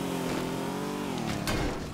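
Car engine revving in the Teardown video game, a steady loud mid-pitched drone that climbs and surges toward the end, with no talk over it.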